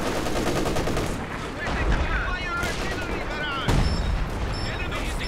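Machine gun fire in the Company of Heroes strategy game, a dense clatter of rapid bursts with distant booms of artillery, while players talk over the battle.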